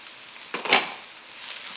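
Dry spices frying in a pan for a Kerala fish curry, a short burst of close sizzling with one sharp scraping clatter, then a softer hiss, no talking.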